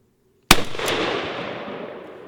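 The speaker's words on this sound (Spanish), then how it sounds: "Se te ha escapado el tiro." A hunting rifle fires once after a brief silence, a sharp loud crack followed by a quick second report and a long rolling echo fading across open terrain.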